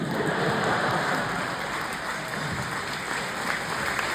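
Concert audience at a show in Toronto applauding, a dense, even wash of clapping that sounds almost like heavy rain and holds steady throughout.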